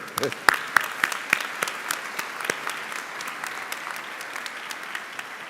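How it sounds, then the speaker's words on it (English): Applause for the nurses at a medical school commencement. A few sharp, distinct claps come first, then softer scattered clapping that fades across the room, with a voice over it. "And my applause for the nurses, if we may."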